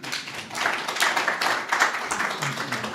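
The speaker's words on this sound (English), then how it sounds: "So with a warm round of applause, welcome Robin Marsh." An audience claps to welcome a speaker at an art exhibition and book launch, with dense, brisk hand claps that stay fairly loud and steady for a few seconds.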